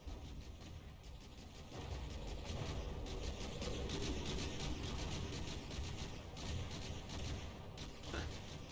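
Continuous booming gunfire from warship cannons in the game From the Depths, rapid overlapping blasts rumbling on and on with a dense low-end roar, like cannons exchanging fire at a steady pace.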